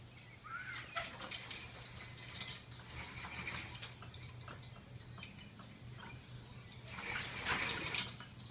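An old wooden pulley winch fitted with new rope works with light, irregular creaks, clicks and ratcheting ticks, close and moderately quiet, swelling louder near the end over a steady low hum.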